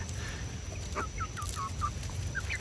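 Chickens cluck softly in a quick run of short calls over a low background hum.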